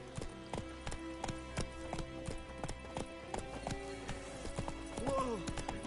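Roach, a horse in The Witcher 3, gallops with crisp rhythmic hoof clip-clops, then neighs near the end; a voice speaks briefly alongside.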